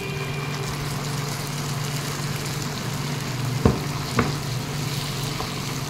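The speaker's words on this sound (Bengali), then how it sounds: "এইবারে আমি বাটা মশলাটা দিয়ে দেব।" Ground paste of boiled garlic, dried chilli and tomato frying in a pan, a steady close sizzle with a low hum underneath and two brief clatters near the end.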